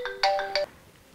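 A mobile phone ringtone plays a short bright electronic melody of a few ringing notes, loud and close, then cuts off into quiet room tone.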